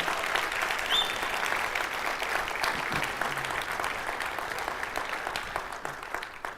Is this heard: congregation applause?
yes